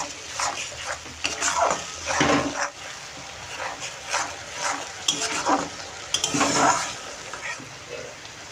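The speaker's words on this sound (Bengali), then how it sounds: "পেঁয়াজটাকে আমি এখন ভালোভাবে কষাবো।" Onions fried and stirred in oil for a Bengali doi katla fish recipe: steady close sizzling with repeated scraping stir strokes swelling and fading, loud and continuous, no talking.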